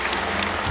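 Dense audience applause fills the Palais Garnier after Aurélie Dupont's farewell ballet performance, a steady, close wash of many clapping hands throughout the short moment.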